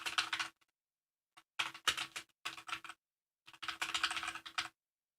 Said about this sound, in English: When you start typing in using this method,